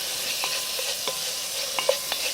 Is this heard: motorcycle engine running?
no